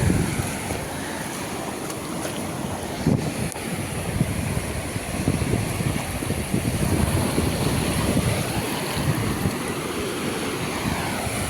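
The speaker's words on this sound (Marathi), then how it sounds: "सुंदर लाटा, फेसाळत्या लाटा, फेसाळता समुद्र." Foamy sea waves break and wash steadily onto Shiroda beach near Vengurla, a continuous close roar of surf with wind buffeting the microphone and no voices.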